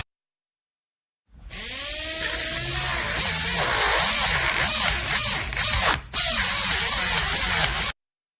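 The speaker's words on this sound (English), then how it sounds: "Run the polisher over the teeth to clean them." A dental polisher in a dental-care video game whirs steadily for about six seconds with a high, hissing buzz, briefly cutting out once near the end. No voices are heard.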